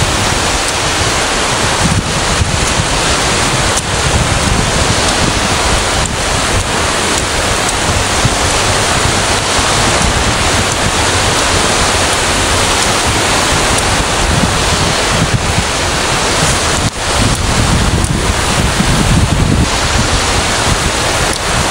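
Sea waves wash onto a seaside beach in a loud, unbroken surf roar mixed with heavy wind buffeting the microphone, with no voices.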